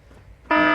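A loud electronic alarm buzzer in the video game Fallout 4 cuts in abruptly halfway through, a harsh steady tone after a near-silent start.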